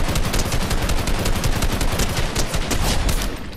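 Rapid automatic gunfire from a shooter video game rattles in dense, continuous bursts. It stays loud and close for the whole stretch, with no talking.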